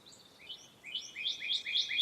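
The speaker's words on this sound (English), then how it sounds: "Shh, listen. A cardinal." A northern cardinal sings a series of clear, rising whistled notes that quicken and grow louder toward the end, heard alone in a quiet garden setting.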